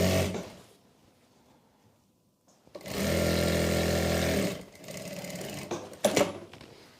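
Sewing machine stitching a salwar seam, a fast rhythmic whirring burst of about two seconds, followed by shorter runs of stitching after brief pauses.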